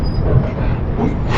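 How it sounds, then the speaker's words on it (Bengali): Train crossing a bridge over the Kaveri river on a Kolkata to Coimbatore rail journey, heard from inside as a loud, continuous low rumble and roar with no distinct clacks. "দেখিয়ে দিলাম তোমাদের কাবেরী নদী ক্রস করা, ব্রিজ ক্রস করলো ট্রেন।"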